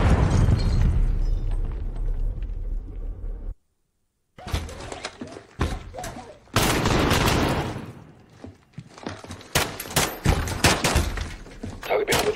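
A grenade goes off in Call of Duty: Modern Warfare, a loud booming blast. A brief silence follows, then bursts of gunfire and crashing debris rattle on, with radio-style voices faintly mixed in.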